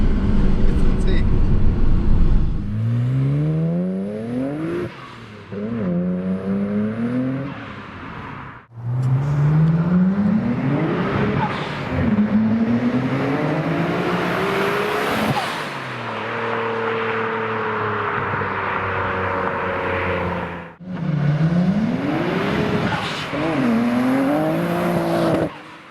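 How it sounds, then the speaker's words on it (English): A Nissan Skyline GT-R R32 accelerates hard with all four wheels spinning, its engine note rising through repeated loud revving pulls that drop back between shifts, close and dominant, with a voice speaking over parts of it. "Second gear, you're just going along and it starts spinning all four wheels."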